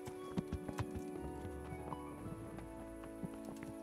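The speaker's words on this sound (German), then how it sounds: "Hey, Hans, hier ist noch ein Pferd." Horse hooves clip-clop in the medieval game Kingdom Come: Deliverance, a few soft uneven hoof strikes over a busy ambient game soundscape, faint and at some distance.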